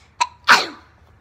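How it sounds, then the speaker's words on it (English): A single human sneeze: a short sharp intake followed by a loud, explosive burst that fades quickly, close and clear with no other sound. "I keep sneezing all the time."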